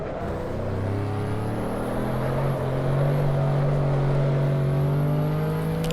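An Audi RS6 engine on the Nordschleife pulls hard under steady acceleration, a loud, smooth rising drone heard close with a faint whine above it and no speech.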